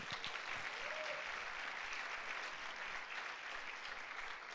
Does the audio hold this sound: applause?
yes